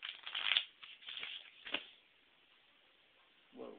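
Quick riffling bursts of cards being shuffled, a few short flurries up close, then a pause and a brief soft rustle at the end.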